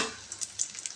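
A mini Mughlai paratha frying in a pan over medium heat, a soft, steady sizzle with small crackling pops scattered through it, quiet and close.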